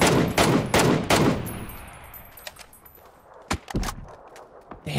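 Several loud video game gunshots in quick succession on the Erangel map, then a few scattered, sharper shots after a pause, with a ringing metallic tail between bursts.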